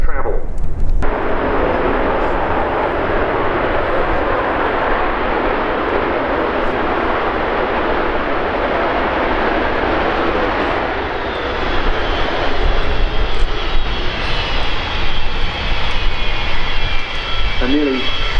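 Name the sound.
jet airliner flying past at RIAT air show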